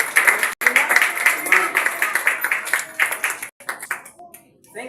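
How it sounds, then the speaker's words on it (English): An audience at a workshop applauds presenters, a dense steady round of clapping that thins out toward the end with a few scattered claps. "Let's give another round of applause to our first presenters, Bishop."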